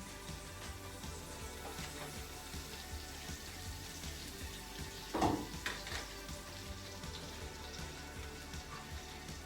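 Salmon fillet frying in a covered pan, a steady soft sizzle and crackle throughout with one brief louder spatter midway.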